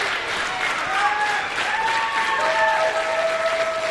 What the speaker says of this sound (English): Barrie Wrestling crowd fully into this match, fully behind the Golden Gun.